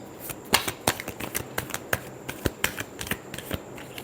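A deck of tarot cards is shuffled close up, a series of crisp riffling slaps and soft flutters in an irregular rhythm, fairly quiet with no talking.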